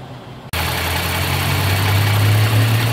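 A 3.5 liter V6 in a Toyota Sienna minivan starts up after a brief quiet moment, then settles into a steady, fairly loud idle with a low, even hum that holds without variation.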